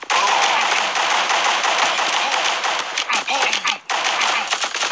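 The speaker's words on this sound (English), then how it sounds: "and I'll go straight to the submachine gun." Submachine gun fire in the mobile shooter Guns of Boom, a loud continuous rattle of rapid shots filling nearly five seconds, with a brief gap near the end before the firing resumes.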